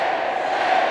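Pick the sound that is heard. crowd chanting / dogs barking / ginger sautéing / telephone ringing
crowd chanting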